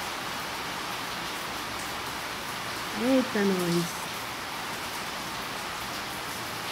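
Steady rain falls throughout as an even, broadband hiss, with a short burst of speech just after the three-second mark.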